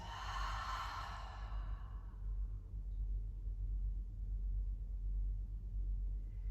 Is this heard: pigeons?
no